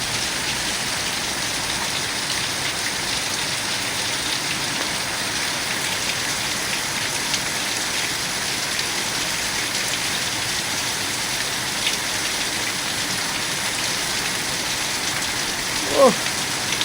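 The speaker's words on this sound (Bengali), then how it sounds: "বিশাল জোরে বৃষ্টি হচ্ছে, বিশাল জোরে।" Very heavy cloudburst rain in Bongaon pours down in a dense, unbroken roar, loud and close throughout, with one brief knock near the end.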